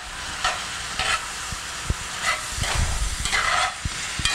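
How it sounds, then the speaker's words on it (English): Ground beef sizzles and crackles in a hot frying pan, a steady close hiss punctuated by soft pops and occasional clinks. "You can hear it now sizzling away."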